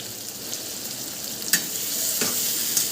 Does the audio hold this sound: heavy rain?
no